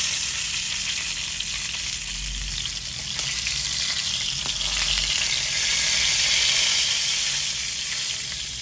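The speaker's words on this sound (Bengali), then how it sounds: "কি সুন্দর ভাজি হয়েছে মাছগুলো।" River fish sizzles steadily in hot oil in a home kitchen, a continuous bright crackle and hiss that swells slightly midway, with no talking.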